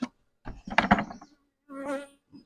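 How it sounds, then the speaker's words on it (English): Bees buzzing around a queen mating nuc box, a couple of short close buzzy passes with pauses between them, fairly faint. "This box is already full of bees."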